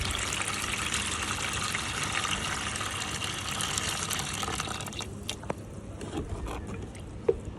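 Water is poured steadily into a container, a continuous gushing splash with a few drips and small knocks near the end as the flow eases.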